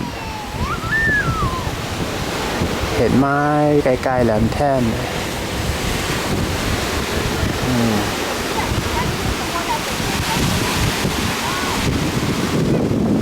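Sea waves surge and crash against rocks below at Khao Sam Muk, Chonburi, in a steady, roaring wash of noise, while someone speaks over it.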